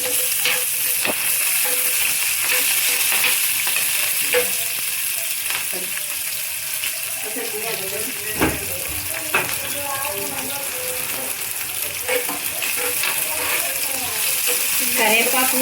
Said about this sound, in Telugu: కరివేపాకు చిటాపట ఉంటుంది ఫ్రెండ్స్, పట్ట పట్ట సౌండ్ వస్తుంది కరివేపాకు